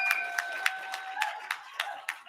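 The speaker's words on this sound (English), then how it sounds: "Let's give them all a hand clap," Several people clap for staff members at a youth summit gathering, a scattered round of claps with distinct sharp hits over a steady tone, moderately close and fairly quiet.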